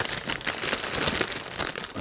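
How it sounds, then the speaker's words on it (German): Plastic bag crinkling while a microphone bundle is unboxed, a close, loud run of crackling rustles and crumples lasting about two seconds with no talk. "Jetzt muss ich hier gucken, dass ich hier die Tüte nicht kaputt ruppe."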